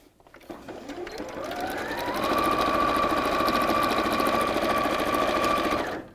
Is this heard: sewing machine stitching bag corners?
yes